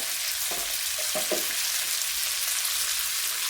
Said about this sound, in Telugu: ఆనియన్స్ బ్రౌన్ కలర్ వచ్చేంత వరకు వేపుకోవాలండి